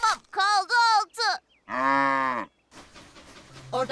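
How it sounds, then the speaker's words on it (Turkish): Cows moo in several long, loud, close calls one after another, with a gap of quieter rustling before a final low call begins, in a children's train cartoon setting. "Hayır ama inekler möğlüyor."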